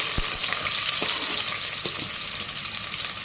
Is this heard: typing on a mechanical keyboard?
no